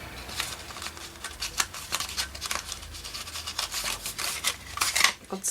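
Paper being trimmed to round its corners for a pocket and corner page tag, with a run of short crisp snips and rubbing rustles, close and fairly quiet, with no talking.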